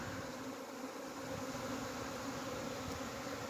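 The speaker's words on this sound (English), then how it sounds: "bees everywhere" A steady, dense buzzing hum of swarming honey bees fills the air continuously, with a low murmur underneath and no voices.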